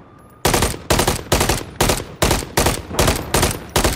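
Heavy, evenly spaced bursts of gunfire in Modern Warfare 3, about nine loud, punchy shots in quick succession after a short quiet start, close and alone.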